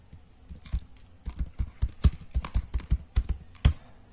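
Computer keyboard keys tapped out in an irregular run of sharp, close clicks while a name is typed, loud and clear with no talking.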